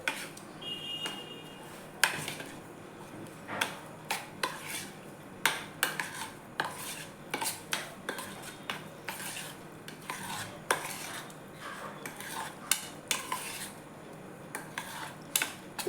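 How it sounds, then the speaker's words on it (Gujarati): Buttermilk being stirred into bottle gourd dhokla batter, with a utensil scraping and clinking against a bowl in an irregular rhythm of close, distinct taps over a faint background hiss, and no talk. "છાશ લીધી છે તે આપણે અંદર એડ કરીશું ને એને આપણે સારી રીતે મિક્સ કરી દઈશું"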